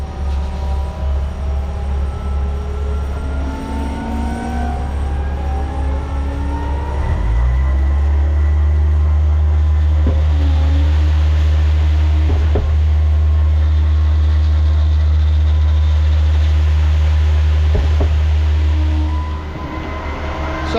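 A Putzmeister concrete boom pump pumping masonry block-fill revs up partway through into a loud, steady, heavy engine drone, with occasional sharp knocks over it and no speech.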